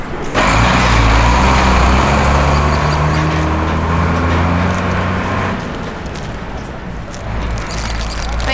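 A local bus rumbles past close by in an outdoor town setting, its heavy low engine drone loud and steady for about five seconds before easing off into quieter traffic background.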